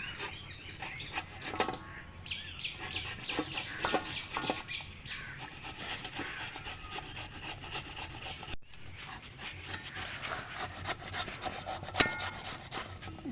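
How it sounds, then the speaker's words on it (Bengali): Papaya being grated on a grating machine, giving a continuous rough scraping rasp with irregular strokes, close and fairly loud, with a rooster faintly in the background. "মেশিনে দিয়ে পেঁপেটাকে গ্রেট করে নেব"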